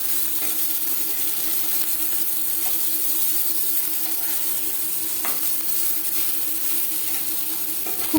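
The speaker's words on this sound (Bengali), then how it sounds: "একটা সাইড ভাজা হয়ে গেলে" Pieces of katla fish belly fry in hot oil in a pan, giving a steady close-up sizzle with a few faint clinks, and no one speaks.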